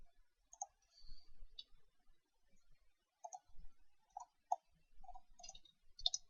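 A keyboard spacebar being pressed, sparse light clicks scattered irregularly, faint and close in an otherwise quiet room.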